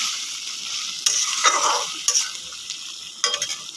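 Drumstick pieces coated in mustard paste are stirred in a frying pan for a potato chorchori, with a steady sizzle and a few sharp scraping strokes of the spoon against the pan.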